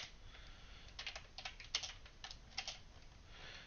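Quick bursts of keystrokes clatter on a computer keyboard while code is entered, the clicks coming in uneven clusters, close but faint.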